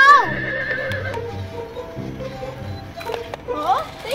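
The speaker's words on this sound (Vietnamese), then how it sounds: "tiếng ngựa kêu đâu vậy ta?" A horse neighs and whinnies several times at close range, with high, shaky calls and lower snorting between them, and hooves faintly clopping in the background.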